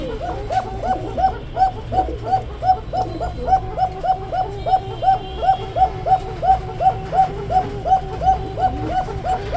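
Pigeons cooing at a pigeon market, a rhythmic series of repeated close, loud coos pulsing steadily over a background murmur, with no talk.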